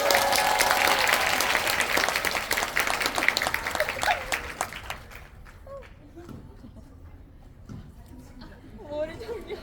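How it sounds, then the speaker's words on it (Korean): An audience in a cinema auditorium claps loudly as actors and a director walk onstage for a film talk event, the applause fading after about five seconds into scattered claps, shuffling and murmured voices. "큰 박수 부탁드립니다"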